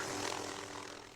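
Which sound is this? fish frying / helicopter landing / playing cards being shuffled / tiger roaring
helicopter landing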